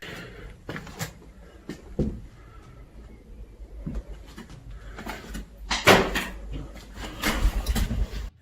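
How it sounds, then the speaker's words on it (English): Inside an abandoned house, a door swings shut on its own, a loud hollow knock landing about two-thirds through amid scattered smaller clunks and creaks, close by with no talking. "Somewhere nearby a door closes all by itself"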